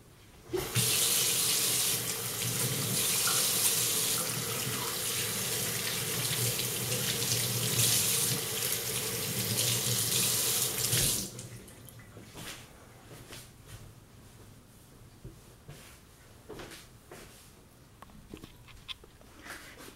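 A kitchen tap runs steadily as hands are washed for the pickled turnip prep, a loud, close rush of water that stops abruptly partway through, leaving faint drips and small clatters.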